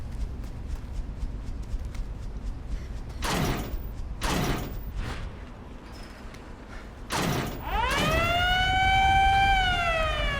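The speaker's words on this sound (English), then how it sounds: "Oh, why is the loud siren?" A loud siren in the video game Resident Evil Revelations 2 wails in, rising and falling in pitch, after several heavy creaking, clanking mechanical bursts.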